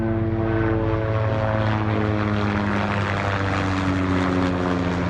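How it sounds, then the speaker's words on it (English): A loud, continuous engine drone overhead, steady throughout with a throbbing rotor-like hum and no talking. "Helicopter."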